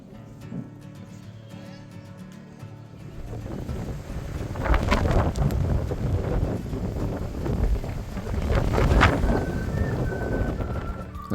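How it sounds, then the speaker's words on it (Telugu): Strong wind gusting at Boulders Beach in Cape Town, a loud rumbling roar that buffets the microphone and swells in heavy gusts throughout, with a faint high tone toward the end. "ఇక్కడ గాలి అయితే విపరీతంగా ఉంది."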